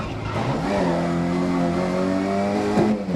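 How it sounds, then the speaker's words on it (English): A race car in the GRID 2019 racing video game revs loudly and steadily, its exhaust note droning close up for the whole moment, with faint crackle near the end and no talking. "Popping crackers and the exhaust."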